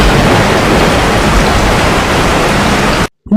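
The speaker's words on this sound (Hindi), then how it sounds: "बहुत ही तेज बारिश हो रही थी।" Very heavy rain roars as a loud, dense, constant downpour during a stormy night in a village, stopping abruptly near the end.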